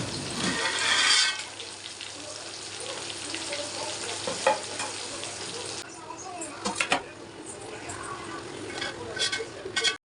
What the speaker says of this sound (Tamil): ஸோ இதே மாதிரி நெக்ஸ்ட் பேட்சும் போட்டு பொரித்து எடுத்துக்க போகிறேன்.